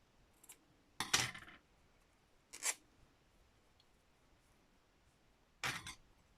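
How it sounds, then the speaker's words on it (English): A few sharp metallic clinks of scissors against glass, three main bursts spread apart in an otherwise quiet room. "I keep forgetting those scissors are noisy on glass"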